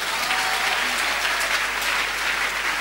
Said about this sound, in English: Now give Jesus a hand clap of praise.